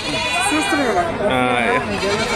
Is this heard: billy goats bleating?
yes